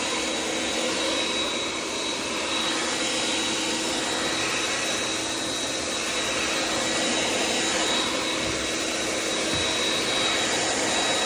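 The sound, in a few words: shop vacuum sucking up floor wax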